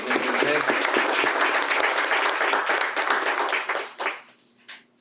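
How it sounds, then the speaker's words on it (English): A crowd at a school Student of the Month ceremony applauds loudly and steadily, then the clapping thins out into a few scattered claps before it stops. "Give a round of applause to them."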